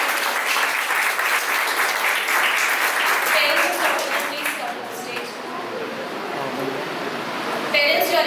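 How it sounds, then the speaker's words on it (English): Audience applause for a student topper at a school Independence Day celebration, sustained dense clapping that fills the hall, with a voice speaking faintly beneath it. "Give her a round of applause."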